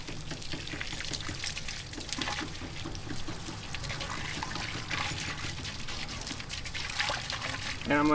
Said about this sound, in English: And then I'll rinse it off and let it dry.